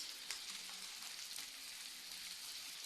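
Sausages sizzle in a frying pan as they are stirred, a steady close frying hiss with faint scraping of the utensil, no voices.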